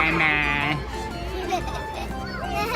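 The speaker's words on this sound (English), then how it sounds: "What sound does sheep make?" A sheep bleats in a wavering, nasal cry near the start, followed by quieter bleats and background chatter over a steady low hum.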